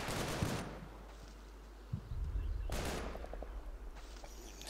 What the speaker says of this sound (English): It's just those MG42s at the back there really hurting my men.